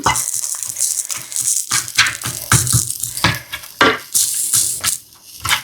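Steady, crackling sizzle of chicken frying in a hot pan as its own water cooks out, with loud pops and spatters throughout. Close up, and no one speaks.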